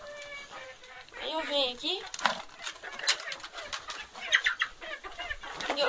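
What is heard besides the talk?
chickens clucking in a coop during feeding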